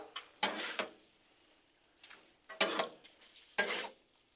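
Food being mixed on a Blackstone griddle for chicken enchilada quesadillas, with spatulas scraping and clattering over the hot surface in four distinct, close bursts and quiet gaps between them.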